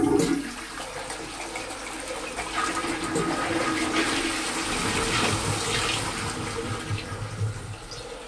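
A Burlington toilet pan in a pub is flushed with a stiff pull handle, giving a loud, close rush of water that gushes at the start and then settles into a steady refilling hiss.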